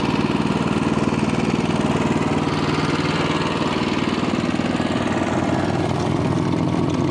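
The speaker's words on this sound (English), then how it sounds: "the auger is running right now and the handle is down on both handles" A loud, close Honda HSS1332 snowblower engine running steadily with its auger engaged, giving an even rapid chugging drone with a slight rise and fall, and no talking over it.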